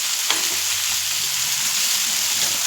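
Fish frying in a thin layer of oil on an old griddle stone, a steady, close hiss and sizzle throughout with faint crackles and no talking.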